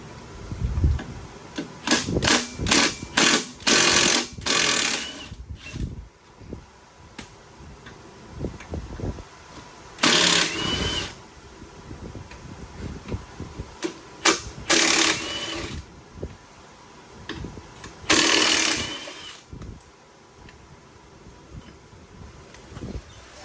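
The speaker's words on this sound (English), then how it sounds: "take your 12mm, and you can take off these 4 bolts that are holding the foot peg on" Bolts holding the foot peg on a Honda Fourtrax 300 ATV being loosened with a 12mm wrench, giving close, irregular bursts of metallic clicking and ratcheting separated by quieter handling noise, with no talking.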